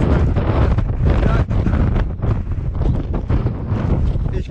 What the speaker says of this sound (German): Ich weiß nicht, ob ihr vom Wind gerade vielleicht weggeweht werdet